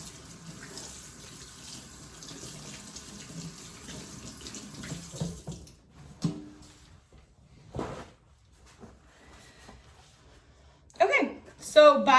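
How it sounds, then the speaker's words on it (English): A kitchen tap runs steadily while hands are washed under it. The water stops partway through and is followed by scattered knocks, clatter and soft handling sounds. "So I'll just wash my hands before I get in there."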